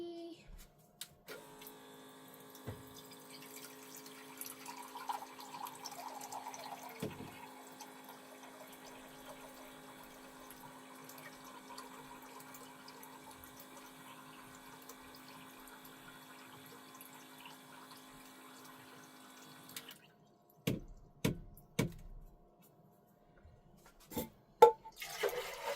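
A water pump in a van hums steadily for about twenty seconds while water runs from the faucet to be heated for tea. A few clunks and knocks follow once it stops. The sound is faint and close, with no talking.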